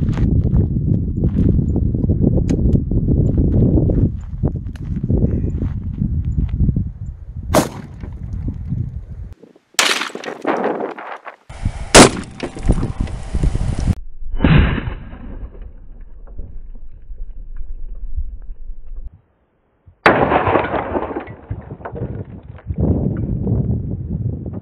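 A .460 S&W Magnum revolver fires through a row of pumpkins: a few sharp, loud shots stand out as isolated bursts between stretches of rumbling handling noise and outdoor background, with no talk.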